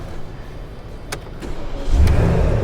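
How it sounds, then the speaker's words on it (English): A 2013 Porsche Cayenne S engine cranks with a couple of sharp clicks, then catches and settles into a loud, deep idle rumble close by, with no voices. "We're gonna start the car up before we check anything out."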